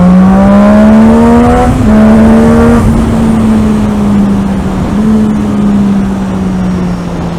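A 2008 Triumph Daytona 675 motorcycle ridden at steady speed, its engine holding a strong whining drone that rises and dips slightly with throttle changes, loud and close throughout with wind rush, no talk.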